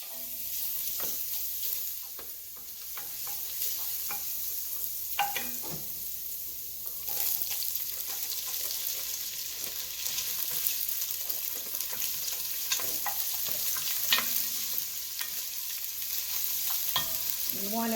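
Garlic dropped into heated oil in a home kitchen pan, a steady close sizzle and crackle running throughout, with occasional stirring scrapes and light clinks, no talking.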